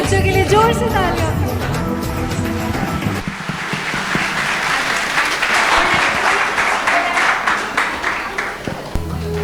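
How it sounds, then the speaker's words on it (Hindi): Loud, sustained audience applause at an Independence Day and Shri Krishna Janmashtami cultural programme, greeting small children after their patriotic song; the clapping swells after the music ends and continues steadily with some crowd noise. "एक बार सब छोटे बच्चों के लिए जोर से तालियां"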